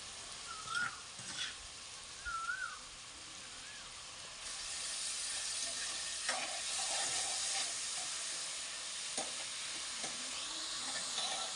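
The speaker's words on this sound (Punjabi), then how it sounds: "ਪਿਆਜ਼ ਆਪਾਂ ਨੇ ਸਾਰੇ ਐਡ ਕਰਤੇ ਚੰਗੀ ਤਰ੍ਹਾਂ ਮਿਕਸ ਕਰਤੇ ਤੇਲ ਦੇ ਵਿੱਚ" Chopped onions stirred and fried in hot oil in a pan, producing a steady sizzle that grows louder partway through, with occasional scraping stirs and faint birdlike chirps in the background.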